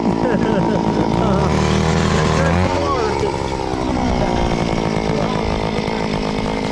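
A power ice auger drills a hole through lake ice while setting a gillnet, its engine roaring loud and steady throughout with a pitch shift midway as the bit bites, and people talking faintly beneath it.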